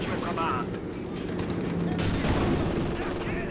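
Sustained rapid machine gun fire in a real-time strategy battle, dense repeated gunshots over continuous rumbling battlefield noise with scattered distant bursts, steady and loud throughout.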